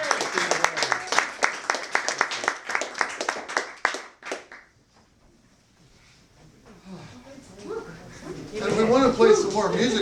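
A small coffeehouse crowd claps in a dense burst of applause that fades out after about four seconds, followed by a quiet stretch and then rising chatter and voices.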